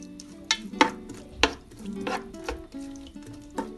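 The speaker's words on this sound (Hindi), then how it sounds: "जब तक प्याज फ्राई हो रही है" Onions sautéing in oil in a pot, with a steady soft sizzle broken by several sharp clinks and scrapes of a spoon stirring against the metal, close and fairly quiet with no talking.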